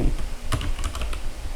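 Close-up typing on a computer keyboard, a quick run of crisp keystrokes in an irregular rhythm, some louder clacks standing out, with no talking.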